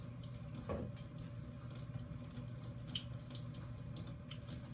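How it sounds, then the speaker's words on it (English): A kitchen faucet runs at a low trickle while cooked chicken is pulled off the bone for chicken noodle soup, making a steady, faint wash of water throughout. "I like to keep the water running just a little bit to cool my fingers off"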